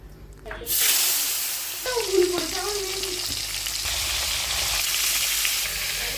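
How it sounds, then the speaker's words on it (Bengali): Koi fish frying in hot oil, a loud steady sizzle that bursts in suddenly and then holds, with light stirring or scraping through it and a few faint voices. "মাছটাকে একটু ভেজে নেব।"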